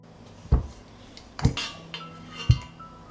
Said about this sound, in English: I put a cloth on the bottom of the pan, and I put the jars in the pot.